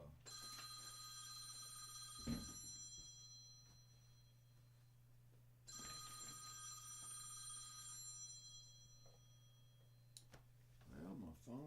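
In a Nashville recording studio, a phone rings in two long trilling bursts, faint and somewhat distant over a steady low electrical hum, with small knocks and movement around it.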